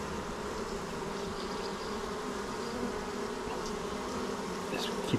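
Honey bees buzz steadily around an open beehive during an inspection, a dense, close, continuous hum of many insects that stays fairly quiet, with a few light handling knocks near the end.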